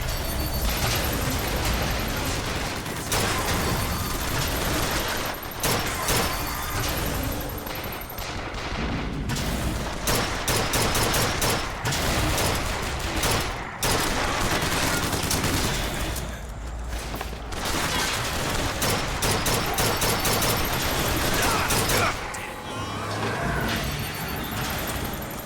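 Rocket automaton fire in Bioshock Infinite amid a dense, loud battle, continuous volleys of gunfire and booming blasts layered together throughout with no pauses.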